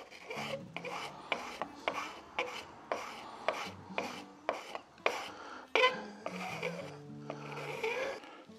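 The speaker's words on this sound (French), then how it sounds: "Quand on fait ce genre de ponçage vraiment très fin, ça vaut le coup de se mettre sur un étau" Pink ivory wood being very finely sanded while clamped in a vise, a run of short rasping strokes repeating steadily and close up, about a dozen passes with brief gaps between them.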